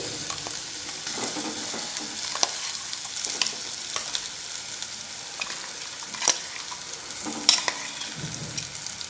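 Crushed peas stir-fry in hot oil with cumin and asafoetida, a steady sizzle broken by repeated scraping stirs and a few sharp clinks of the spoon against the pan.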